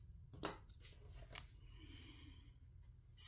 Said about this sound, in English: Sorry, bite my thread off.